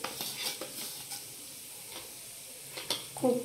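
Ground cumin, coriander powder and sesame seeds sautéing in a pan for a no-onion, no-garlic masala, giving a soft steady sizzle with scraping stir strokes and a clink near the end, alone without talk.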